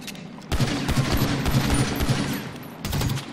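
Rapid gunfire from a firearm in a video game with an infinite ammo trainer running, a burst of shots lasting over two seconds, a short pause, then a brief final volley, loud and close.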